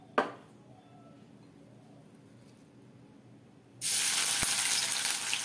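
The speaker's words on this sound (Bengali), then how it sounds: "এবার আমি কিছুটা পেঁয়াজ নিয়ে বেরেস্তার মতন করে ভাজবো।" Onions frying in oil in a pan for a Bengali potol curry: near silence with a brief clatter, then a sudden loud, steady sizzle as the onions hit the hot oil.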